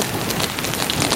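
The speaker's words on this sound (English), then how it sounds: "The rain, of course." Steady heavy rain pours down during Superstorm Sandy, a dense continuous hiss close by with no voices.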